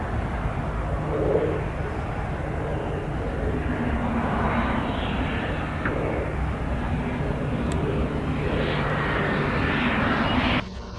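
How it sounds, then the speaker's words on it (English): A light airplane on landing approach at an African airstrip, its engine droning steadily at moderate distance with a broad, airy roar that holds fairly even before cutting off abruptly at the end. "During its landing approach in Africa, this plane came dangerously close to striking an impala."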